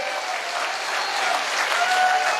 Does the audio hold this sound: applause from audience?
yes